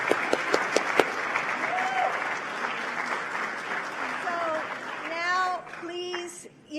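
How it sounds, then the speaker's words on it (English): Sustained audience applause fills an Italian American heritage reception, with crowd voices and cheers mixed in and some whistles or tonal calls rising toward the end before it tapers off. "Can we give her another round of applause?"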